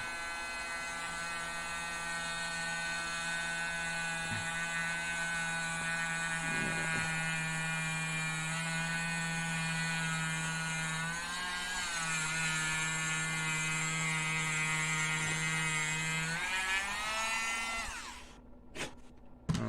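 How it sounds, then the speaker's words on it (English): A high-pitched rotary tool whines steadily for nearly twenty seconds while drilling a small hole in a handmade eyeball, its pitch wavering slightly, then spins down and stops with a couple of clicks. "We're going to drill ourselves a little hole in there."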